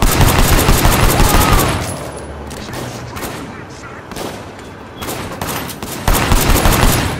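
Rapid gunfire from Sleeping Dogs rattles in dense, loud bursts, easing into scattered shots mid-stretch before surging again near the end.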